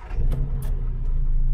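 A Morris Nomad 1100/1300 station wagon engine cranking and catching, a close, low rumbling idle that settles into a steady running note with a couple of sharp clicks early on.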